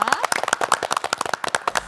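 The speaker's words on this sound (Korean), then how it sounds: "박라엘 학생의 끼 넘치는 댄스 무대 박수로 환영합니다" Audience clapping to welcome a student's dance performance on a TV morning show stage, a quick burst of brisk, fairly faint claps with a faint tone sounding above them.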